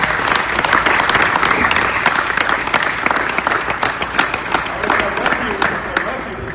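Dense, sustained applause from an audience after a basketball talk fills the space with continuous loud clapping for several seconds before easing off slightly at the end.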